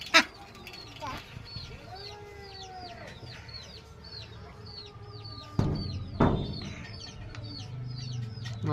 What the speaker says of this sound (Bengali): এই দেখো হাঁস নিয়ে খেলা করছে